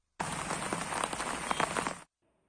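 Steady rain falls as a dense, even hiss of drops striking a surface, continuous for about two seconds before stopping abruptly, with no voices present.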